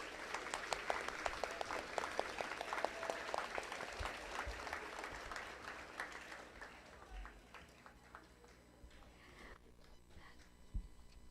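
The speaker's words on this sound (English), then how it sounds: "if we could give him a round of applause" Audience applause at a school Veterans Day program, a sustained crowd clapping for several seconds that thins out and fades toward the end, with a few scattered late claps.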